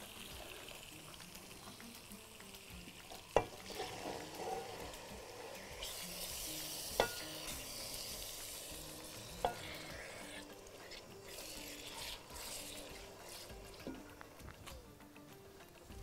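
Chicken hearts, then chicken livers, fry in a pan with a soft continuous sizzle and stirring scrapes. A few sharp clicks of a utensil on the pan stand out over the faint, low-level cooking noise.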